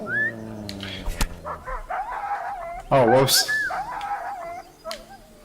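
Dog barks and whimpers inside a video game, several short yips scattered through the clip alongside game sounds, with someone talking over them.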